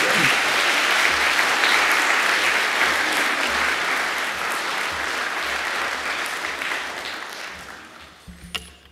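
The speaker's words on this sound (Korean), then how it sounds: "박수로 환영해 주시기 바랍니다." A church congregation applauds to welcome a visiting missionary speaker, with dense, steady clapping filling the sanctuary for most of the clip before gradually tapering off at the end.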